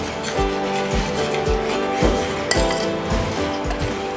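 Metal spoon stirring chocolate into hot milk in a pot, giving regular light clinks against the pot sides at a steady rhythm, close and clear with no talk.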